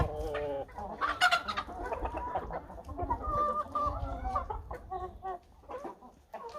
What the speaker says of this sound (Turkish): Bakın, bakın mesela gelen tavuklar şöyle kavga ediyorlar.